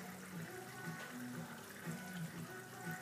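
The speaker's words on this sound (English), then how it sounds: "pump on the side which makes a little waterfall and filters the water" Steady trickling and splashing of water from a side-mounted pump forming a small filtering waterfall in a cold-water fish tank, a continuous close wash of running water with no talk.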